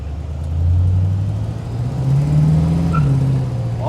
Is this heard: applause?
no